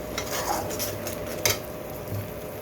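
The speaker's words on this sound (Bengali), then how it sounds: "খুব ভালো করে ভেজে নিতে হবে" Potatoes and cauliflower with tomato fry in a pan as they are stirred, with a steady close sizzle and scattered clinks and scrapes of a utensil against metal, including one sharper knock midway, with no talking.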